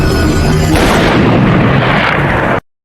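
A single heavy rifle shot booms loudly and rolls on for a couple of seconds before cutting abruptly to silence.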